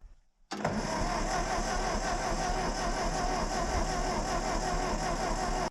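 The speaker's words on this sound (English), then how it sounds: "this is definitely a functional starter motor" A Ford 8N tractor engine cranks on its starter motor and catches after a short pause, then runs with a steady, loud mechanical drone and no talking.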